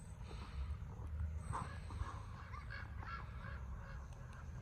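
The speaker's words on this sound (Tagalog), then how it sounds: "Ang daming malalaking ibon." A flock of large birds at Sequoia Park gives faint, distant honking calls over a low, steady outdoor rumble.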